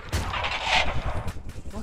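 Gunfire in the airship combat video game Worlds Adrift, a quick burst of sharp shots close up with a voice shouting over it.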